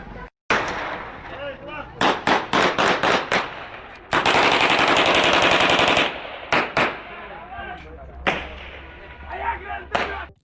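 Gunshots are fired into the air at a wedding, loud rapid bursts and single cracks echoing close by, including a sustained stretch of automatic fire, with voices shouting in the background.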